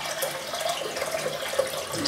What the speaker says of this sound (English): Put a little bit of water on the brush.